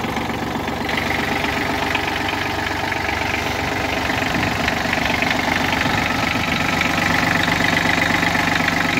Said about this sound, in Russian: Двигатель работает отлично.